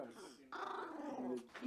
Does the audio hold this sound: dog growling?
yes